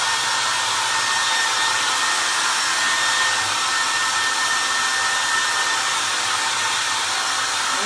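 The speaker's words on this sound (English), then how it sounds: "let's dry these real quick and then we'll scuff them up" A hair dryer runs steadily and loudly throughout, drying homemade pieces for a DIY patriotic parade float, with no talking over the constant blowing whine.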